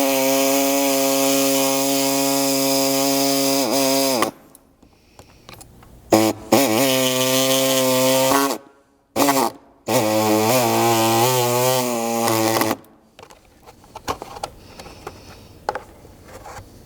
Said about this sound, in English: And then you'll simply cut out that rectangular portion